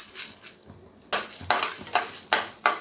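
White urad dal dry-roasting in a pan for coconut podi, stirred with a spatula: a run of close, brisk scraping strokes against the metal, each a short rasp, with a faint sizzle between them.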